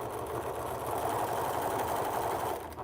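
A sewing machine stitches quilt fabric strips along a drawn guide line, its steady motor hum running continuously and fairly loud, alone with no talking.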